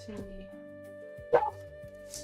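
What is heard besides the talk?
dogs barking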